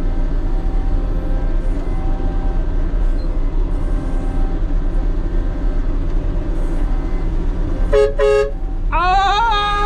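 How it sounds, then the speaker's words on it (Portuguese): Vehicle horn blasts near the end at a road construction site where a Caterpillar motor grader is opening a road: two loud, sharp toots around the eighth second, then a longer held honk, over a steady low engine rumble. "Pensa na buzina que ficou terrível."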